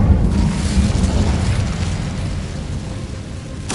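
A dense, rumbling burst of the Incendio fire spell from Hogwarts Legacy roars continuously, loud and close, with a crackling whoosh that fades slightly toward the end.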